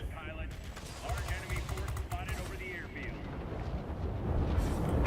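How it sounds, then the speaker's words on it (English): Rapid aircraft cannon fire from the XF5U in World of Warplanes rattles in dense bursts over a low rumble of game action, with a voice talking over it. "And you notice those lovely cannons doing their jobs."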